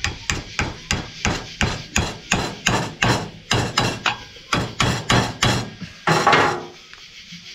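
Something is driven in by pounding with a screwdriver used like a hammer, giving a steady series of about seventeen sharp, close, woody knocks in an even rhythm, ending with a scraping rub.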